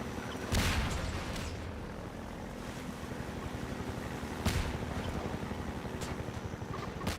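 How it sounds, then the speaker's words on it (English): A helicopter dropping bombs in the Half-Life 2 video game, with a steady loud engine rumble and several sharp explosions bursting through it, no speech. "So it is dropping bombs, and I just drove right into one."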